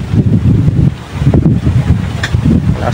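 Strong wind gusts buffet the microphone outdoors near water, making loud, uneven low rumbling surges that rise and fall over a few seconds.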